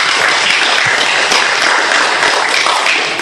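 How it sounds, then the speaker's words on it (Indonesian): Audience at a presenter training session clapping for themselves, loud continuous applause with dense overlapping claps and no talk. "tepuk tangan untuk diri Anda sendiri."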